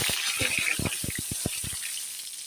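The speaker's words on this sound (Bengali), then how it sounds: "কড়াইতে তেল গরম হয়ে গেছে তেলে দিয়ে দিলাম আমি গোটা জিরে দিয়ে দেবো দুটো শুকনো লঙ্কা" Whole cumin seeds and two dried red chillies sizzling in hot oil in a kadai, a steady bright crackle with rapid popping spatters close up, without any voice.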